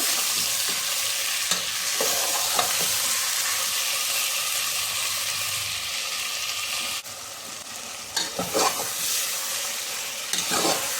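Tomatoes being stirred and cooked in a pan for Andhra gongura curry, a loud continuous sizzle with occasional spoon scrapes, dipping briefly before louder stirring strokes near the end.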